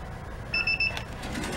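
A Ranger LS43B wheel balancer gives three short, evenly spaced electronic beeps, clear and close over a low steady room hum with no talk.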